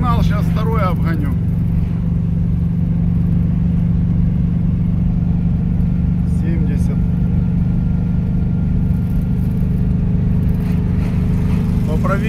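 A ZAZ-965 car drives along a main road and overtakes other cars, its engine giving a steady, loud low drone throughout, with a voice briefly heard over it.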